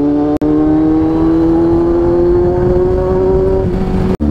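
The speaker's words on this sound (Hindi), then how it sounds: "गंदा वाला ट्रैफिक लग चुका है गाइस।" Heavy road traffic heard from inside or beside a vehicle, a loud continuous engine drone with a steady rising whine lasting several seconds, framed by two brief dropouts.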